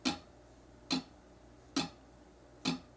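Muted guitar strings played as smooth, even quarter-note downstrokes, four soft percussive chucks evenly spaced, close and alone without talk.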